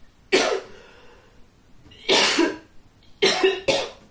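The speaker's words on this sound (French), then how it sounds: "Je vais encore tousser." A person coughs close to the mic in a quiet room: one cough, a pause, another, then a quick double cough near the end.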